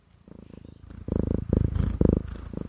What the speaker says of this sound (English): I'm just going to sit there and purr on my lap.